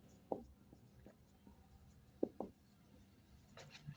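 Pen or chalk strokes during a maths lesson, a few short sharp scratches and taps scattered irregularly over a quiet room, close and faint.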